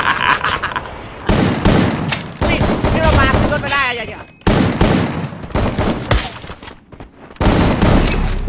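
Rapid gunfire in a sniper shooting video game, loud bursts and sustained volleys with brief gaps, mixed with game sounds and excited talk throughout.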